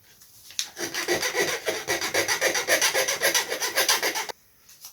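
A file rasps back and forth over the end of a brass tube, roughly twenty quick rhythmic strokes, close and loud, stopping abruptly before a short quiet tail.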